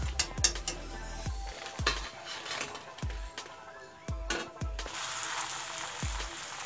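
Gupchup puris frying in hot oil over medium to low heat, with repeated sharp metal spoon knocks against the pan over a steady sizzle, close and fairly loud, about a dozen taps at an uneven rhythm.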